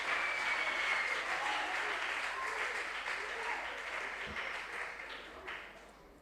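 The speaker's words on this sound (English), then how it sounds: "A round of applause for my contestants." A room full of people applauds quiz contestants at a junior science and maths quiz championship balloting, the steady broadband clapping fading gradually over several seconds with faint voices mixed in.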